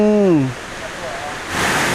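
Water pours down the third tier of Huai Mae Khamin waterfall as a broad rushing roar that swells after a voice speaks at the start.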